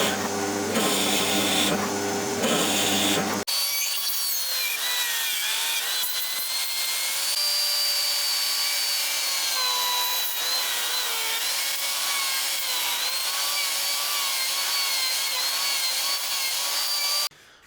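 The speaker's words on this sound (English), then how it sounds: "I'm going to drill this out and I'm going to router it out" Power tools drill and rout a neck pocket into a Limba guitar body: a loud grinding burst opens, then a long steady high whine of routing with shifting pitch continues up close.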